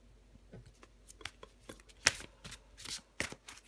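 Tarot cards are shuffled and drawn in a series of soft, quick riffling flicks and slaps, close and quiet, with no talk over them.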